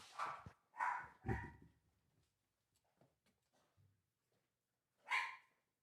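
Small dogs, one of them a papillon, bark indoors: three sharp barks in quick succession, some faint yips and whimpers, then one more bark, all fairly quiet and alone.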